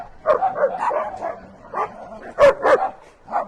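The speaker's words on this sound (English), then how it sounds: "Children, Tucker, the dogs are in rare form today." Several farm dogs bark and yip in repeated bursts at close range, with louder overlapping barks near the end and no talking.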